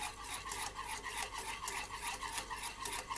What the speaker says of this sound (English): We're trying to break up that pumpkin in there a little bit.